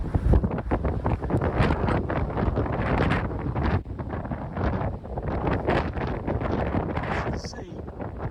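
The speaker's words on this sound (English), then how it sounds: "it's already pretty windy" Steady wind from Storm Darragh buffeting a microphone outdoors on Pendennis in the evening, a continuous rumbling roar that rises and dips without pause.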